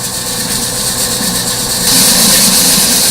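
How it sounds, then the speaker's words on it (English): A commercial mixer runs at speed 2, about 175 to 210 RPM, with a loud, steady mechanical drone that grows louder and brighter partway through. "we will stop the mixer and increase the speed to speed 2"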